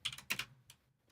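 Fingers type on a computer keyboard in a few quick, close bursts of clicking keystrokes, then trail off into sparse, fainter taps, with no voices.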